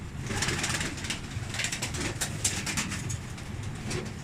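Pigeons coo softly amid a busy, rustling background of fluttering and shuffling, with no talking.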